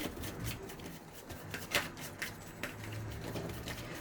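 Tarot cards being shuffled by hand for a love reading, giving soft riffling and patting sounds close by, with a couple of sharper card snaps in the middle of a quiet stretch.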